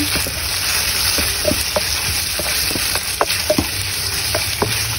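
Chicken pieces coated in cornstarch, mixed with four dried mushrooms, stirred in a hot pan for Cantonese claypot rice: a steady close sizzle with scattered scraping clicks of the utensil throughout, no voices.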